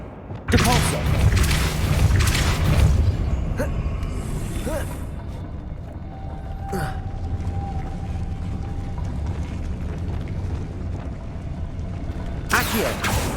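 Depulso spells in Hogwarts Legacy gameplay land as heavy thumping booms, a dense burst at the start followed by scattered thuds and magical swells over ambient game sounds, with occasional voices mixed in.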